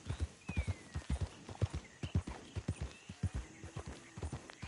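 Horse hooves clip-clop in a steady trotting rhythm in Red Dead Redemption 2, with a couple of brief whinnies rising over the hoofbeats, moderately close and with no talking.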